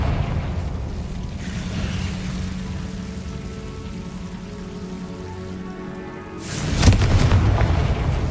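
A Confringo explosive spell in Hogwarts Legacy bursts near the end as a sudden loud blast with a crackling, rumbling tail, following several seconds of low rumbling ambience.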